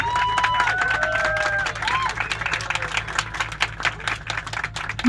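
Audience applause at a cosmetics company's 10th-anniversary party, a steady wash of clapping from a crowd with some cheering, a low rhythmic music beat underneath and faint voices mixed in.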